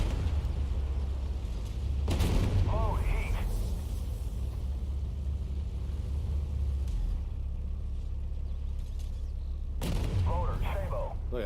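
A tank cannon fires in the Armored Warfare video game with a Vickers VFM Mk5, giving two loud booming shots a few seconds apart over a steady rumbling engine drone, with faint voice-like game sounds in between.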